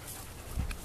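A German Shepherd panting close by in a short, steady burst of breathy huffs, with no talking.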